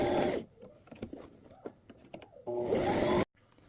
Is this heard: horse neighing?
no